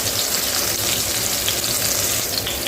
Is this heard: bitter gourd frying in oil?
yes